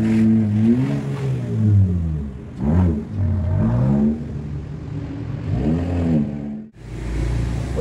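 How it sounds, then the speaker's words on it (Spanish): A Chevrolet Spark NG small car engine fitted with a K&N air filter and its original exhaust hums steadily at close range, rising and falling through several revs before a brief dip and a return to idle. "El filtro le da un sonido muy, muy bonito al motor"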